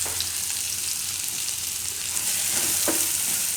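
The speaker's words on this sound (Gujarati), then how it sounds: "આ જે તેલ આપણે છે એમાં જ આપણે આ નારિયેળને શેકી લેવું" Grated coconut roasts in oil in a pan with a steady, bright sizzle throughout, plus a few faint scraping or stirring knocks near the end. No one talks.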